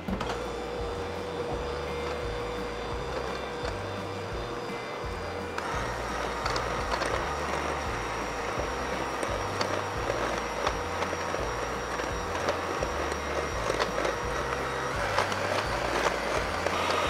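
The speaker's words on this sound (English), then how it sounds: "Now we're gonna start using our hand mixer to make the maple sugar" A hand mixer fitted with two beaters whips maple syrup as it thickens toward maple sugar, giving a steady motorized whir with a rhythmic churning pulse that grows slightly louder and busier partway through, with no voices.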